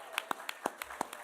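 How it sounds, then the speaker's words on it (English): A handful of sparse, separate claps from an awards-ceremony audience, quiet and irregular over about a second, with faint room sound beneath. "How about a big round of applause for Jeff Freeland Nelson?"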